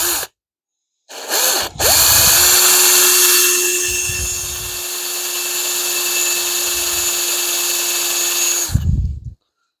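A power drill bores into a Hemi connecting rod, starting after a brief clack, then holding a loud, steady whining grind for several seconds before cutting off with a few short bursts at the end.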